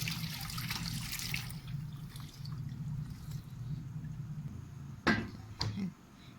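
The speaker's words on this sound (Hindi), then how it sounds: "इसके अंदर से जो है अब हम इसको स्ट्रेन कर लेंगे ताकि ये जो पल्प है, जो हमारे पास जो खजूरों के पीस हैं ये अलहदा हो जाए और जो सिरका होगा वो नीचे आ जाएगा" Homemade date vinegar poured through a plastic strainer, a steady soft trickle of liquid that runs for a while, then fades, with a couple of sharper splashes and knocks near the end.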